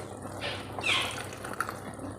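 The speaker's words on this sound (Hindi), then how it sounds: "इसमें हम थोड़ा सा पानी डालेंगे और इसको अच्छे से मिक्स करते हैं" Water is poured into about two and a half tablespoons of cornflour and stirred, making a faint, brief wet trickle and splash with soft mixing noise and no talk, while a beef nihari is being prepared.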